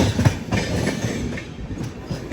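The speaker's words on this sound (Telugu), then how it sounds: "అరే ఇంకొక ట్రైన్ అయితే వచ్చేస్తుంది." The Agartala–SMVB express passes on the adjacent line near Gudur Junction, its wheels clattering loud and close in a steady rolling rush over the rails.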